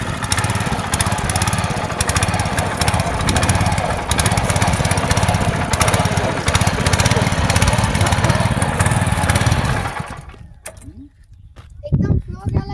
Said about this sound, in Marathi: पप्पांच्या एका किकने पेट्रोल टाकून आपला ट्रॅक्टर सुरू झालेला आहे